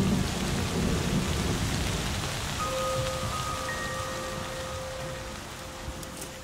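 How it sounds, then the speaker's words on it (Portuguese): Rain pours across the wet savanna of Kruger National Park in South Africa while thunder rumbles low and heavy at first, then fades under a steady hiss of rainfall. "as chuvas retornam."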